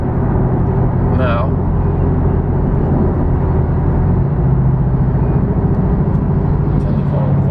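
Salvaged Porsche Boxster GTS on a test drive, a steady low engine and road drone filling the cabin throughout, with a voice speaking briefly over it.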